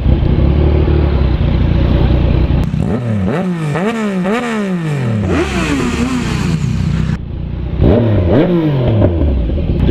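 A Yamaha MT-09 motorcycle revving and accelerating through repeated gear changes, the engine pitch climbing and dropping in a rising sawtooth pattern, loud and close over steady road and wind noise.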